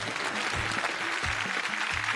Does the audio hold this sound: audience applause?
yes